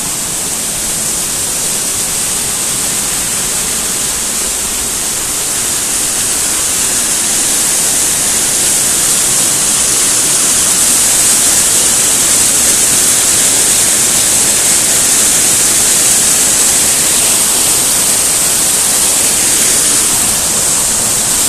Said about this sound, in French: Ici j'arrive à la cascade, je crois.